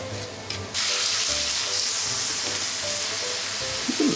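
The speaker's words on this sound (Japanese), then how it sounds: "凍ったまま、炒めていきたいと思いますね" Frozen bean sprouts hitting a hot pan, bursting into a loud, steady hiss of sizzling and stir-frying that holds evenly from close by, with a faint scrape near the end.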